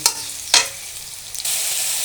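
Onion sizzling in hot oil for a water lily curry, a steady bright frying hiss broken by two sharp bursts as it is stirred or tossed, with no talking.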